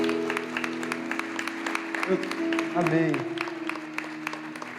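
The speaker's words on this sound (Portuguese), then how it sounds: "Vamos aplaudir o Senhor por esses irmãos" A church congregation applauds with a steady patter of claps, while voices talk and sing over it at about the same loudness.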